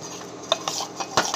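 A spoon briskly stirs rava dhokla batter mixed with soda in a bowl, giving rapid, close metallic clinks and soft scrapes in quick succession.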